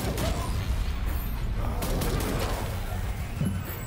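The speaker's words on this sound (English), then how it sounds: "This shotgun is amazing." Shotgun blasts in the wizard first-person shooter roguelite Ziggurat 2, a dense, loud run of overlapping shots and impacts mixed with game effects, no speech over them.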